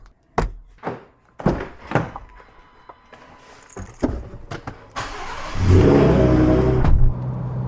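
A car starts and sets off for a drive: a few loud door or trunk thunks and clicks, then the engine turns over and settles into a steady, close idle and rev as it pulls away, with no talking.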